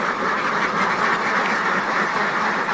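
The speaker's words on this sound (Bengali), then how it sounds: "হাঁসগুলোকে ছেড়ে দিব হাঁসগুলো খুব চেঁচাচ্ছে এখন" A flock of ducks quacks loudly and continuously in the morning, a dense, overlapping, raucous chorus close by that fills the whole moment without a break.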